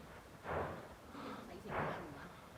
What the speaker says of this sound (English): And the volcano just keeps exploding.